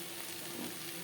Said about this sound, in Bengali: 3-4 মিনিট কাঁকরোল ভেজে নেওয়ার পর গ্যাসের ফ্লেমটাকে লোতে করে দেবো।